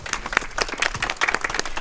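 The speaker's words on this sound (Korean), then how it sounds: "힘찬 박수 부탁드리겠습니다" Audience applause at a memorial ceremony, a short burst of crowd clapping with crisp individual claps standing out from the steady patter, moderately loud and close.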